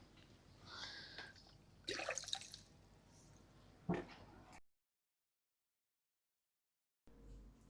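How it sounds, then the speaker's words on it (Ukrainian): Pond water poured over freshly sown cucumber seeds in a planting basket, with a few splashy bursts of trickling and dripping water, then a gap of silence before a brief final splash. "Залишилося полити живою водою із ставка."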